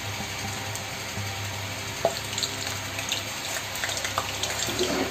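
Mustard seeds crackle in about 50 ml of hot sesame oil in a pan, giving a faint, steady sizzle with scattered small pops.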